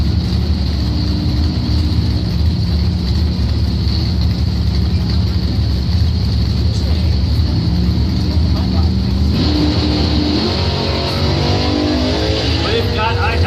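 Drag racing run between a 1970s AMC Spirit and a 1973 Dodge Dart Sport at a points event, loud roaring engines sustained throughout with rising pitch as one car revs higher near the end, under an announcer's voice.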